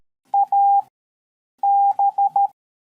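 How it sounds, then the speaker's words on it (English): Morse code sent as steady electronic beep tones, a short and long tone, a pause, then a long tone followed by four quick short ones, clean and loud against silence. "It's a way to communicate, using just dots and dashes"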